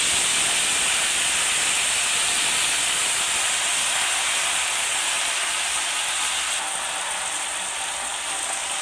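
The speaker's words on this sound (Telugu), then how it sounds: "ముందుగా ప్యాన్ పట్టుకొని దాంట్లో ఆయిల్ వేసుకొని జీలకర్ర, ఎండుమిర్చి, వెల్లుల్లిపాయలు వేసుకొని బాగా ఫ్రై అయిపోయి" Cumin, dried chili, garlic and moringa leaves frying in hot oil in a pan, a loud, steady sizzling hiss that runs throughout, close and without talk.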